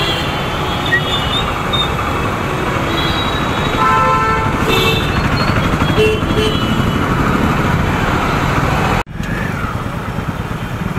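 Heavy evening road traffic in Pandav Nagar, with repeated car horns honking over a dense, continuous roar of engines, one brief dropout near the end.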